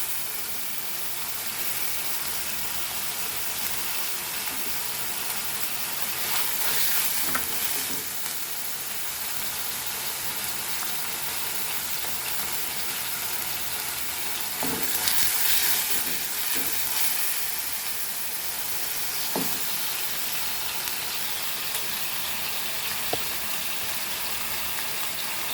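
Goan beef chilli fry with kale leaves frying in a pan, a steady soft sizzle and hiss with a few occasional stirring clatters, no talking.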